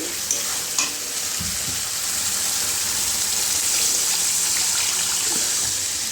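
Water poured into masala frying in oil for a Bengali tilapia curry, a hissing sizzle with a steady pour and a couple of light clinks near the start, close and without talk.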